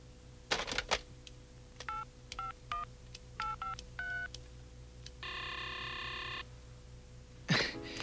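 A telephone is dialed in a Filipino drama scene: a string of short touch-tone beeps in irregular rhythm, then one longer held tone and a closing rustle, all fairly quiet.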